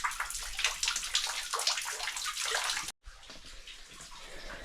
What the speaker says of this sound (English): we've got quite a bit of water coming out of the join between the pipes